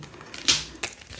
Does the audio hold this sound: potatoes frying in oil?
no